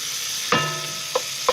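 Tomato paste sizzles and caramelizes in a hot spot of a soup pot with cauliflower, a steady close hiss broken by a few quick stirring scrapes.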